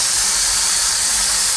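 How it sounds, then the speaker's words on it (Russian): Continuous rushing hiss of water running from a tap on a yacht, steady and close with no breaks. "Вода течет, а насос не работает."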